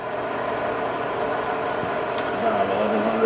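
A Sharp LMV vertical milling machine with a hardened and ground quill and an R8 spindle runs at 1100 RPM in high gear, giving a steady close mechanical hum that rises slightly in pitch and loudness near the end.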